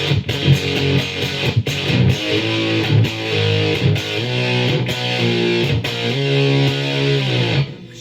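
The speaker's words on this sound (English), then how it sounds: "Then the sound of the Rowan Frenzy by itself." Electric guitar run through a Rowan Frenzy fuzz pedal alone, giving a gritty, sputtering gated fuzz as chords and riffs ring out steadily for several seconds with no talking.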